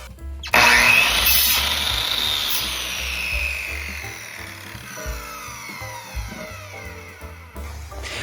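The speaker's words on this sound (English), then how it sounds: "I then sand down the cedar posts, as this is really rough wood" A power sander runs on rough cedar wood posts, a loud continuous whir that starts abruptly, wavers in pitch as it works, and then cuts off near the end.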